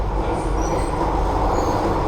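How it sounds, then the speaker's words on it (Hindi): Inside a moving metro train, a loud, steady rumble of wheels and car noise holds constant with no talk. "तो अभी मेट्रो में हूँ, वेट कर रहे हैं स्टेशन का पहुँचने का"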